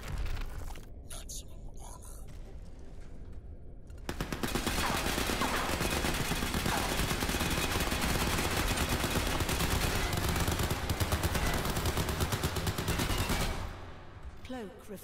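Rapid automatic gunfire in the Crysis 3 video game strikes a nanosuit in armor mode, a dense, loud, continuous clatter of shots and metallic impacts that runs for roughly ten seconds before tapering off.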